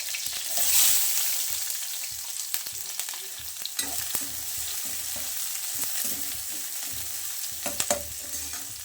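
Chopped onion and green chillies fry in hot coconut oil for a mushroom gravy, giving a steady close sizzle with occasional stirring clinks and scrapes and no talking.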